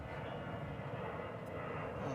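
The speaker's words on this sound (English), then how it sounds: "That is a plane that appears to be landing on 65 on the bridge." At DFW Airport, an airplane lands on a runway, heard as a steady, faint, distant jet roar that holds evenly throughout, with no voices over it.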